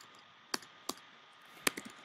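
Sharp computer mouse clicks, a few isolated taps followed by a quick double click, close and quiet in a still room.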